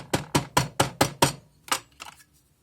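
Someone scrapes packed sand off a sand-casting mold for a wedding band in quick, evenly spaced strokes, six sharp scrapes in a row, then a pause and a few fading, softer passes.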